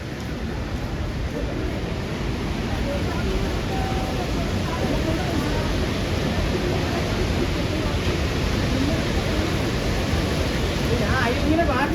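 A mountain river near a Himalayan temple trek, likely the Saraswati, rushes loudly during heavy rain, a constant broadband roar of water with no breaks and no clear speech.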